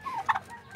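Pet turkeys in a backyard pen among chickens, geese and ducks give a brief, quick gobble that is fairly near and moderately loud, with no talking.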